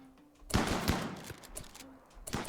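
Video game gunfire erupts in bursts as a squad shoots at a target in a colony management game, with sharp broadband cracks clustered after a quiet start, a lull, then another burst at the end.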